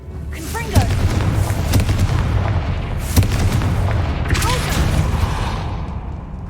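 Confringo blasting-spell explosions in Hogwarts Legacy, several sharp booming blasts spaced a couple of seconds apart, each with a crackling tail over steady rumble and game ambience.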